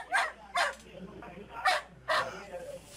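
A dog indoors barks four times in short, loud, yappy bursts at an uneven rhythm, close by, with a faint low hum behind it.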